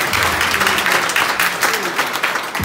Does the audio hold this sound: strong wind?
no